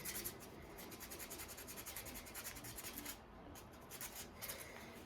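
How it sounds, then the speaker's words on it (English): Sandpaper rubbing over a spray-painted shotgun, a soft, steady rasping in repeated back-and-forth strokes, faint and close, with no talking. "me sanding my shotgun"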